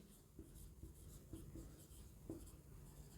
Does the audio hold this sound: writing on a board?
yes